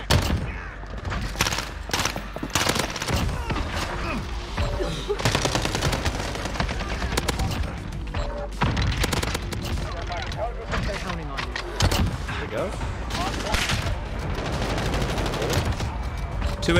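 Dense rapid gunfire from Call of Duty: Modern Warfare rattles almost nonstop, bursts of automatic shots overlapping with sharp single cracks, loud and close throughout.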